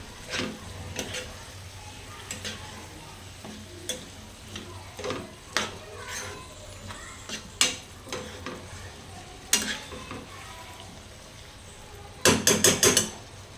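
A spoon stirs and mixes an onion dish with green garlic in a pan, giving scattered scraping taps and clinks over a faint sizzle, ending in a quick run of sharp metallic knocks.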